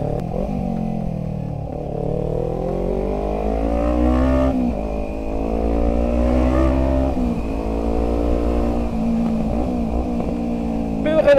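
A loud starter motorcycle engine revs steadily, its pitch rising and falling through several long climbs over a deep, constant drone, close and unbroken.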